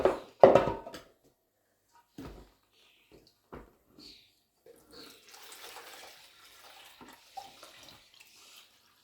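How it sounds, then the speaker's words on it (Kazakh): The first cloudy rinse water is tipped out of a bowl of homemade cow's-milk butter. A few sharp knocks come first, then a low, gentle pouring and dribbling of water that lasts several seconds close by. "Мынау бірінші жуған дәл осы суда қазір төгіп тастаймын"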